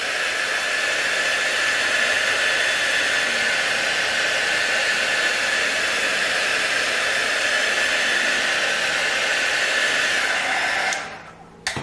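A heat tool blows in a loud, steady, close-up whoosh for about eleven seconds, drying paint and erasing heat-erasable pen lines, then cuts off abruptly.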